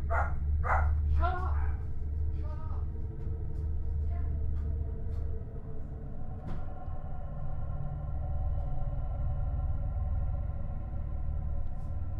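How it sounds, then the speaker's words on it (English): Several dogs bark in quick, sharp bursts near the start, then fall silent under a steady low hum for the rest of the stretch. "my dogs are barking"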